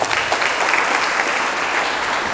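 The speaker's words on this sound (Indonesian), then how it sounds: "Tepuk tangan untuk kita semua." Audience applause at a leadership talk, a dense continuous patter of many hands clapping at moderate loudness.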